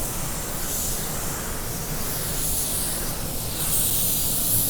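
A spray gun with a 1.3 tip lays down three-stage red pearl automotive paint in a steady, loud, continuous hiss that holds for the whole stretch, swelling slightly near the end, with no talking.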